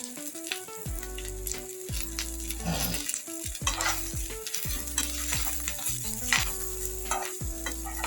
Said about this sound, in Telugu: ఈ పసుపు వేసాను ఇది ఒక్క నిమిషం ఫ్రై చేద్దాం